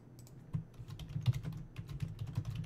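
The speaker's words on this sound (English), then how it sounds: "I hate sometimes typing in these things." Typing on a computer keyboard: steady, close clicking keystrokes in an irregular rhythm over a low background hum, with no talking.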